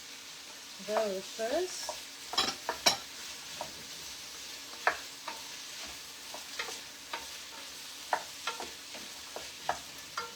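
Peppers fried and stirred in a pot of Hungarian goulash: a low sizzle under scattered spoon scrapes and knocks against the pot, with a brief spoken word near the start.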